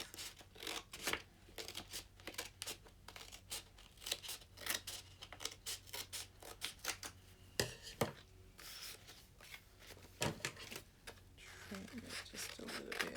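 Scissors snip through folded printer paper, cutting the sheet in half with a run of close, crisp cuts and rustles, and a person talks softly in between.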